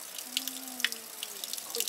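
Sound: water running from a spring fountain being collected

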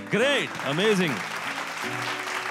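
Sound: studio audience applause

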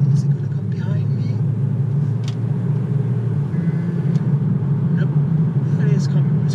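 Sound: Mercedes C63 car approaching

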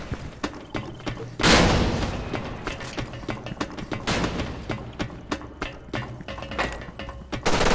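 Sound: explosion and gunfire in video game Special Force 2

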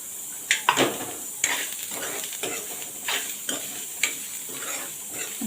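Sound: onion and grated dry coconut roasting in pan

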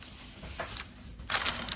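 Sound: shaking baked pastries with powdered sugar in a bag

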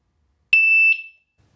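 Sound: alarm siren beeping

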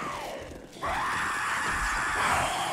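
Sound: screamer zombie screaming in the video game 7 Days to Die

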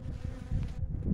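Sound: honey bees buzzing around an opened hive

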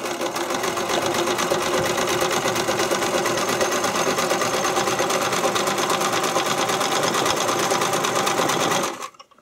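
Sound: sewing machine stitching a seam in spandex fabric

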